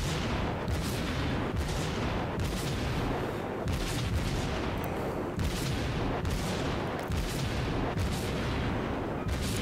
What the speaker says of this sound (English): so I'm gonna start shooting at him